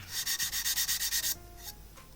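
Rhythmic abrasive rubbing of sandpaper on wood spinning on a lathe, about a dozen quick strokes, close and fairly loud, then stopping into quieter hiss.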